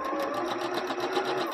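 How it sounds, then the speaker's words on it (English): A sewing machine back stitching the seam of a face mask, a steady close mechanical whir with fast even needle rhythm, heard alone. "As you approach the end of the seam, make sure that you're back stitching"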